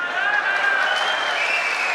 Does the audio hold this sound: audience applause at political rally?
yes